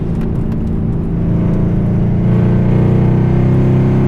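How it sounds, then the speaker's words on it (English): A tuned 2012 Mercedes CLS63 AMG heard from inside the car, its loud engine droning with a deep, steady rumble that swells slightly as it pulls harder, filling the cabin without any talk. "This car is so loud."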